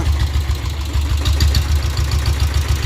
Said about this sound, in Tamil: ஸோ வண்டியோட பீட் சவுண்ட் எல்லாமே கேளுங்க